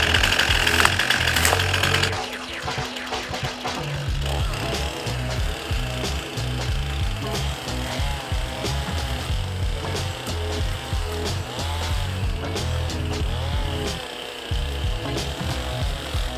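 A saw rasps steadily through small felled trees, cutting the larger pieces into 5 or 6 foot lengths, with a continuous close, loud grinding buzz and brief dips as the blade bites and shifts.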